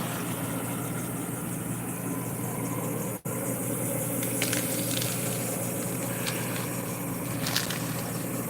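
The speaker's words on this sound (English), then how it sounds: "You hear the water in the background? It's hot water running pretty good." Hot water runs steadily from a kitchen tap, a constant hissing gush with a brief break and a few faint clinks, heard alone without talk.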